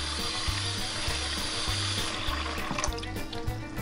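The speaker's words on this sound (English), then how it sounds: "So I'm just gonna put the water on real slow here" A kitchen tap runs slowly while duck meat is rinsed under it, making a close, continuous splashing gush with a faint rhythmic low thumping underneath.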